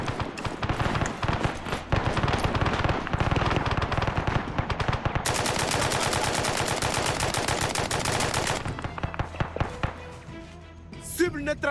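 Arma 3 gunfire during a rebel battle against NATO forces: dense, rapid automatic bursts and overlapping rifle shots, loud and sustained for most of the stretch, thinning out at the end, with talk over it.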